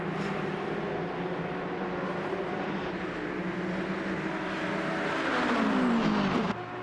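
In a Le Mans sim racing game, a BMW race car locks up its brakes and runs onto the gravel. A steady engine drone builds and then drops away with a sliding tonal squeal near the end.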